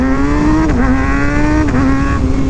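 A high-pitched 2023 Kawasaki ZX6R sport motorcycle engine holds a loud, buzzing rev close up, dipping briefly twice and climbing again.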